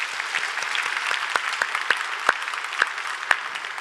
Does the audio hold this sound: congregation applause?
yes